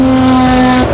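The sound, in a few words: Porsche 917K racing car engine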